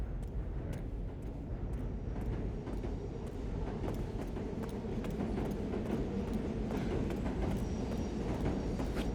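A train in the video game Resident Evil Requiem rumbles past, a loud continuous roar with steady rhythmic wheel clacks over rail joints lasting several seconds.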